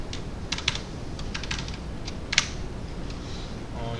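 Computer keyboard typing, with the shift and backslash keys pressed: scattered crisp key clicks, a few quick clusters and one firmer tap, over a low steady background hum.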